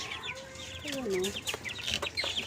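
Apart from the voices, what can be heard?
chickens clucking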